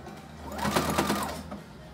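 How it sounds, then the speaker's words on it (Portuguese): A sewing machine stitches a decorative seam on leather, one short burst of rapid mechanical whirring up close that rises and fades within about two seconds. "E lá vamos nós fazer essa costura aqui. Esse ponto decorativo."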